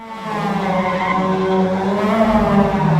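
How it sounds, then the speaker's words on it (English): Several Mazda MX-5 Cup race cars in a sim racing game roar together at the race start, a dense, steady layered engine drone with rising pitch, loud and close, with no voices over it. "The lights are out, and the engines roar to life like a symphony unleashed"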